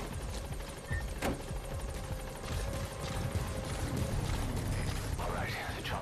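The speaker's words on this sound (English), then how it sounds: "All right, the chopper's touching down." Military transport helicopter setting down at a landing zone in Metal Gear Solid 5: The Phantom Pain, a steady loud rotor roar with whooshing blade noise running throughout, joined by game voices and effects.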